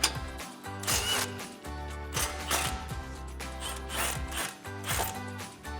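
An impact wrench with a 21 mm socket removes caliper bolts on a 2012-2018 RAM 1500, firing in several loud, rattling bursts separated by short pauses, close by and with no talk.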